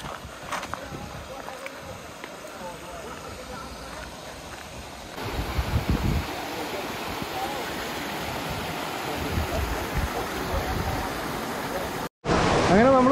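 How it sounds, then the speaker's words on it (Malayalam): Steady rush of falling water from a waterfall on a short hike near the Dead Sea in Jordan, a constant broadband wash that swells louder midway as the falls come nearer, with a few faint voices in the background. "നമുക്ക് വെള്ളം ചാടുന്ന ഒരു സൗണ്ട് കേൾക്കുന്നുണ്ട്. വാട്ടർഫോൾസ് ആണെന്ന് തോന്നുന്നു."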